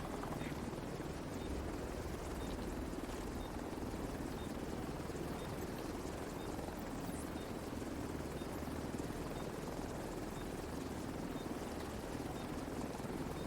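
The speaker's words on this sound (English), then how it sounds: "Chopper will leave in 30 seconds." Helicopter arriving for an extraction in The Division 2, a steady, loud rotor drone that fills the whole stretch without letting up.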